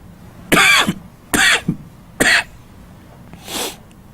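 Three sharp, close coughs in quick succession, followed after a pause by a fainter fourth cough.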